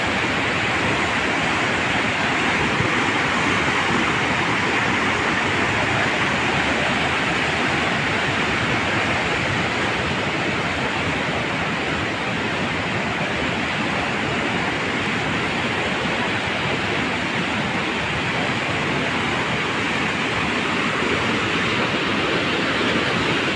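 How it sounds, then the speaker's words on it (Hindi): Floodwater rushes in a loud, steady, broadband roar across a road in Raisen after flooding, continuous and close throughout with no voices over it. "वैसे अभी भी काफ़ी पानी है, वैसे बहुत पानी है अभी भी।"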